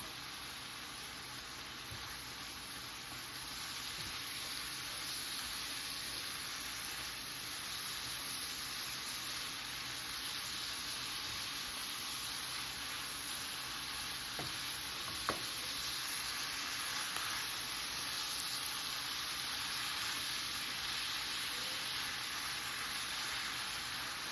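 Collard greens sizzle steadily in a hot skillet as they are stirred, a continuous close frying hiss with faint spatula scrapes and no talking over it.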